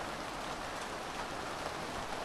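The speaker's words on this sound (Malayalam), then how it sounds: "മഴ." Rain falls steadily in the hills at Kuttikkanam, a dense even hiss of drops on surfaces with no let-up over the short stretch and no voices.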